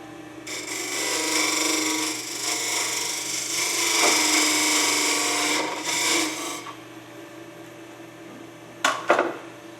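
Wood on a lathe is trimmed as a lidded box is shaped, giving a continuous scraping, rasping cut for several seconds that stops, followed by a couple of sharp knocks near the end.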